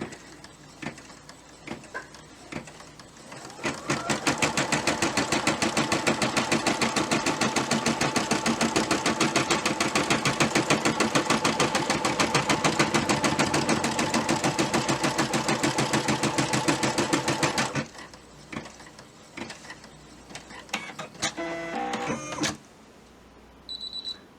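A Brother SE425 embroidery machine stitches a felties design in a steady, rapid mechanical chatter that runs loud and continuous for about fourteen seconds, framed by quieter handling clicks before and after.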